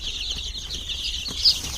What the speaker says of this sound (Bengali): এই যে দেখুন এখন আমার টোটাল চল্লিশটা মুরগির বাচ্চা আছে সব দেশি মুরগি